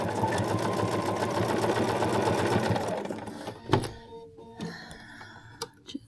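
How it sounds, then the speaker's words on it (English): A sewing machine runs steadily, stitching darts in the fabric of a bowl cozy in a continuous close whir for about three seconds, then stops, leaving only a few scattered handling clicks and knocks. "we're going to go ahead and sew our little darts"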